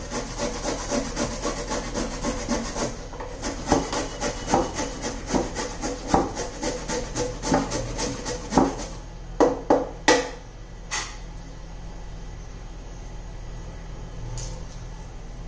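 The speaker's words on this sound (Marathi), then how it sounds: "आता गाजर आपण किसून घेऊ." A carrot is grated by hand for a vegetable besan chilla batter, giving a continuous run of quick rasping strokes that gradually slow into a few separate scrapes before stopping.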